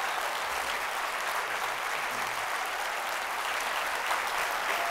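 An audience at a conference applauds in a steady, even burst of many hands clapping, sustained at a constant level throughout.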